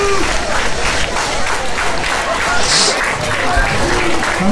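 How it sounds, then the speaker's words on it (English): A crowd at a Southern Illinois Championship Wrestling event applauds a retiring referee after his 27-year career. The clapping and cheering are loud and continuous, mixed with crowd babble and some speech. "Let's all give a round of applause to this man"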